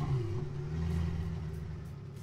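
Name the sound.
video game car engine starting up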